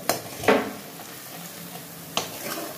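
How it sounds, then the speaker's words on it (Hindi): Onions frying and browning in a pan for Rajasthani Jodhpuri besan gatte ki sabzi: a low steady sizzle broken by a few short scraping stirs of a spoon against the pan. "प्याज को हम ब्राउन करेंगे।"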